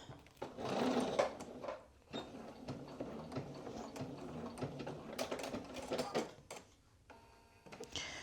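Sewing machine stitching a seam on a pair of pants, running in close, steady mechanical bursts with short pauses between runs and a final stop.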